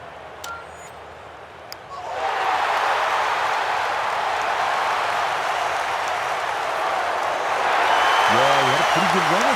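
Broad, muted applause from a golf crowd at Scottsdale in a PGA Tour video game swells in and holds steady, with a faint electronic tone and a few warbling beeps underneath.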